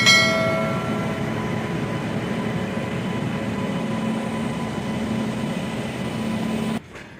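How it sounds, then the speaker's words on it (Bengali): A long freight train rolls past at a distance, a steady loud rumble with faint metallic squeals, continuing evenly before cutting off near the end. "এই হচ্ছে মাল ট্রেন যাচ্ছে"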